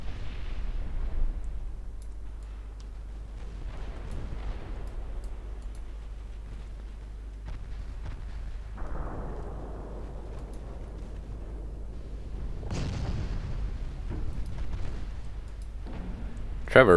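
Eight-inch naval guns firing in the warship game Ultimate Admiral Dreadnoughts, several booming, distant-sounding gun blasts with rumbling tails spread across the stretch, under occasional talking.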